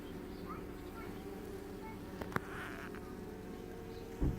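Honeybees buzz steadily during an open hive inspection, a close, dense drone filling the whole clip with a few brief knocks and handling sounds over it.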